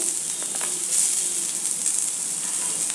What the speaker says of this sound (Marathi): मी थोडा कांदा घेतला आहे चिरून हा कांदा याच्यावरती भाजून घ्यायचा आहे